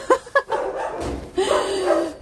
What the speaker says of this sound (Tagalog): Pag-ingay ng aso. Ano yan? Kaya pala maingay.